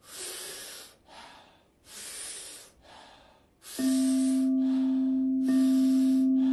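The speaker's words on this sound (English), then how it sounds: "taking about 40 powerful breaths into the body through the mouth" Heavy rhythmic yoga breathwork through the mouth alternates big inhales and softer exhales, close and loud, with a steady electronic tone entering partway through.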